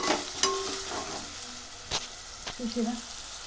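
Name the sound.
frying manchurian in pan with salt and turmeric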